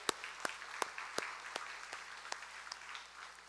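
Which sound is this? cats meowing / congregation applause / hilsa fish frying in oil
congregation applause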